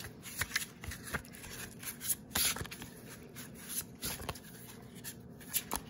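Thin paper cards from a homemade mock-up tarot deck are shuffled by hand, giving a run of quiet, irregular riffling rustles and soft flicks with a few sharper snaps, close by and alone.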